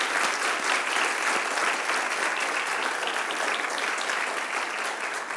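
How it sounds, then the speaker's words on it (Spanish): Dense, sustained applause from a church congregation clapping for the Lord during a sermon, loud and even throughout with a faint crowd murmur. "¿Le puedes dar un aplauso al Señor por eso?"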